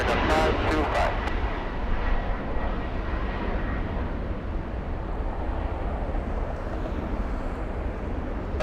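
Jet airliner rolling for takeoff on runway 24 left at LAX, a broad steady roar of engines that holds loud through the whole stretch, with brief radio chatter near the start.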